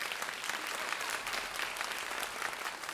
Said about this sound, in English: Can we give them a round of applause and thank them for this experience?